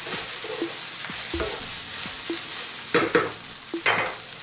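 Carrots frying in a pan for chicken spring roll filling hiss steadily while a utensil stirs them, leaving scattered scrapes and clacks and a louder cluster of stirring near the end.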